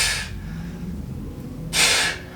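Sharp, breathy exhalations during a beginner home bootcamp workout, with one burst at the start and another about two seconds later, separated by quieter breathing, close and with no talk.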